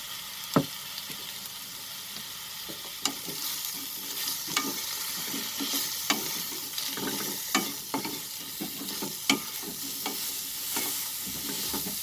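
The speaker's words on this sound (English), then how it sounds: "Cook the eggplant till it is almost done." Eggplant frying in a pan for a baingan methi dish, a steady low sizzle punctuated by regular scraping clacks of a spatula stirring, close and moderately loud throughout, with no voices.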